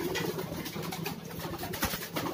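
Pigeons coo continuously in a loft during training, making low, throaty, overlapping murmurs that are close and steady, with no talking.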